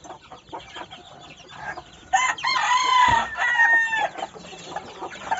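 Bantam chickens on a small farm cluck continuously, then a loud crow rises from about the middle and runs to near the end over the ongoing clucking, all close by with no voices.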